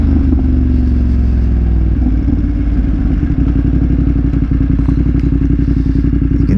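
A 2022 BMW F900R motorcycle on a test ride, its engine droning loud and steady close to the rider, with a rough, throbbing low rumble and slight shifts in pitch as the ride goes on.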